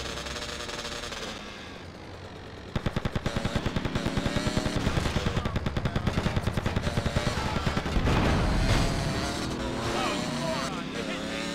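Rapid automatic gunfire bursts in the video game GTA Liberty City Stories, a fast, steady stream of loud shots lasting several seconds, with game noise and a voice talking over it.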